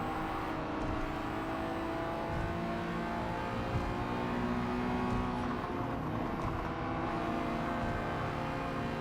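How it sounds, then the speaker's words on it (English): A tiny-engined K car in a racing video game drones with a buzzy, high-revving whine, steady and continuous throughout with no talk over it. "This one sounds like it's got a whole fistful of bees up its exhaust."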